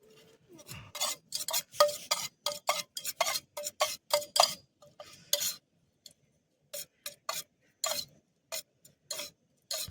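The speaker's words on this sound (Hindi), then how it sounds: "गाइस मिक्स कर रहे हैं अब सारा जो भी मसाला था उसके साथ मटेरियल पूरा मिक्स हो रहा है" Paneer pieces are stirred and tossed with masala outdoors beside a waterfall for paneer tikka: a quick run of close, sharp scraping and clacking strokes, then sparser, irregular strokes after a short pause. No one talks.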